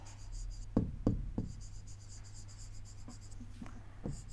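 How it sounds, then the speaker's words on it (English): Someone writes by hand while working through a maths lesson, giving a few quiet, close scratching strokes and taps in short bursts over a faint steady hum. "Let us first write it."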